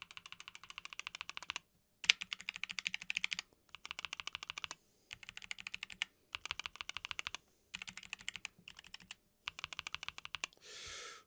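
Arrow keys on a Higround Basecamp 96 keyboard clatter in quick bursts of tactile clicks, separated by short pauses, close and crisp, with a soft rustle at the end.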